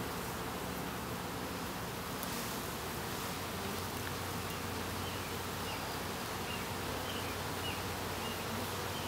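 A dense, steady buzzing of many honeybees fills the air continuously, close and constant, like standing right beside an active hive while a queen is introduced.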